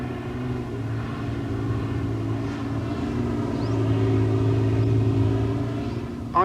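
A Mitsubishi Shogun engine labours steadily as the 4x4 climbs a soft sand slope in the UAE desert, a continuous loud droning rumble with slight rises in revs and no talking.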